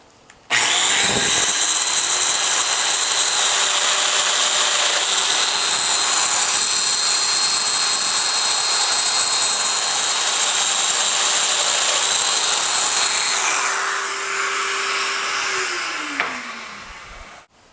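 A domino joiner cuts small mortises into the end grain of wood workpieces, a loud steady high-pitched whine held for about thirteen seconds before spinning down, with no talk.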